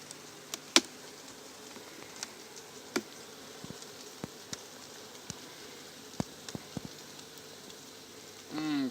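Honeybees buzz steadily around a brood frame lifted during a hive inspection, a continuous low hum close to the listener, broken by scattered light clicks and taps from handling the frame.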